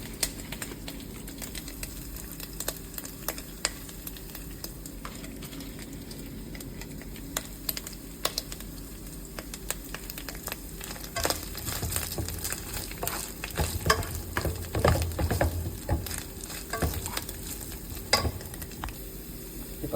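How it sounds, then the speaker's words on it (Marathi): Grated coconut sautéed in ghee for a fish dish, giving a steady soft sizzle with scattered scraping stir strokes that grow busier and louder toward the middle. "खोबऱ्याचा किस व्यवस्थित तुम्हाला परतून घ्यायला लागणार आहे"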